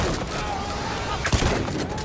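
Heavy gunfire in the Battlefield 1 campaign, blind fire around a corner in a war-torn battle: a dense, continuous barrage at close range with a sharp loud report midway, under a constant wash of combat noise.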